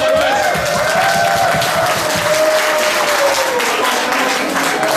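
An audience at an embassy farewell-and-welcome gathering applauds for the ambassador, loud sustained clapping from a crowd with a faint voice or tone running underneath.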